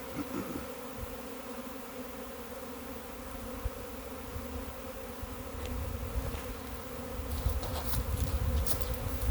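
A honeybee swarm hangs 2-8 feet off the ground and hums in a dense, continuous buzz close by. The buzz holds steady throughout and grows slightly louder and busier near the end.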